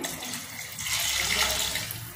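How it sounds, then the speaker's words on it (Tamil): Water poured into a cooking pot while preparing mushroom biryani rice at home, a steady splashing stream that lasts about two seconds and swells in the middle, close and fairly loud with no talking. "அதுக்கு தேவையான அளவு தண்ணி ஊற்றுறேன்."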